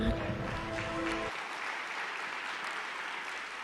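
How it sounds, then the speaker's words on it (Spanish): A church congregation claps together, a dense wash of hands mixed with music for a second, then continuing as softer, distant applause. "démosle un aplauso al Señor."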